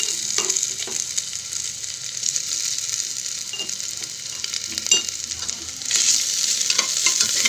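Ginger garlic paste fries in a pan with little oil alongside nearly cooked onions, giving a steady, close sizzle broken by occasional scraping stirs.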